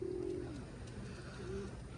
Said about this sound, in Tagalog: Dalawang ibon niya magkapares.